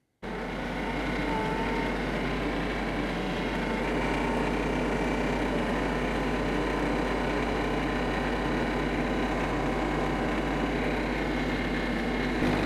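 Kioti CS2520S compact tractor engine running steadily while its forks strain to lift a 500 pound tank off a truck, a constant close engine drone with no breaks.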